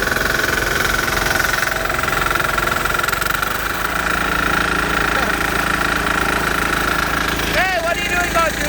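A diesel Bolens garden tractor idles outdoors in the snow with a close, continuous, knocking mid-pitched engine rumble and some vibration, steady throughout with wind noise over it.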